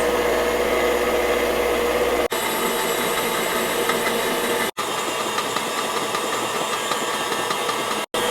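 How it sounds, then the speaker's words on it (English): An electric mixer whisks egg whites with powdered sugar for royal icing, giving a loud, steady motor whir with the beaters churning nearby, broken by a few very short cutoffs. "Start increasing the speed and whisk it at medium-high for about 5 minutes"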